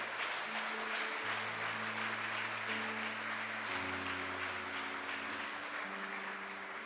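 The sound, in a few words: applause for the Lord in a church service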